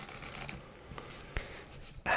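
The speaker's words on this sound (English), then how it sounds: "I'm going to just give this deck a few shuffles" A deck of playing cards is ripple-shuffled close up in a quiet room, producing soft, brief riffling bursts with a sharper snap near the end.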